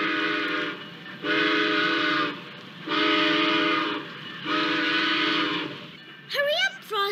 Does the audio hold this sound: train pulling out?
yes